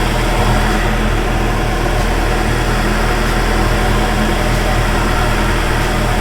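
A 2.0 FSI EA113 car engine idles steadily after a cam follower repair, with a faint vacuum leak, giving a continuous close, loud broadband hum and rumble with no talking.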